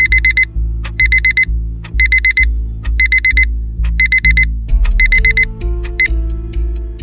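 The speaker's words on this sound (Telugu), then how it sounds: "సబ్జెక్ట్ ఏ ఎగ్జాక్ట్గా 7:05కు అలారం మోగుతుంది." A loud electronic alarm clock rings in a short film, its rapid beeps arriving in regular bursts about once a second over steady low background tones, with no one speaking.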